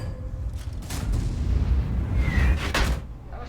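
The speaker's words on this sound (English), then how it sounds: "an intelligent artillery player pressed the trigger" An artillery shot fired in a tank video game, a deep booming blast that rolls out over a rumbling battlefield backdrop, loud and close with a heavy low-end thud.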